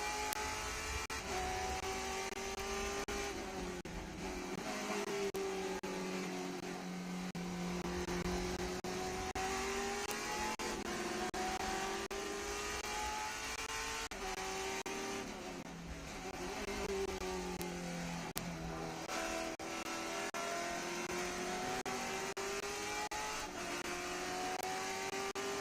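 Trans Am TA2 race cars at Watkins Glen, roaring through the bus stop chicane over the curbs, engines rising and falling as they shift and brake, loud and continuous with several cars overlapping.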